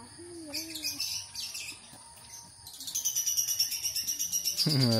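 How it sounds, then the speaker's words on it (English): Small caged birds, including African lovebirds and finches, chirp at a farm in the morning, with shrill repeated tweets and a few warbling calls close by, growing denser toward the end, where a brief low sweep cuts in. "There's birds, huh?"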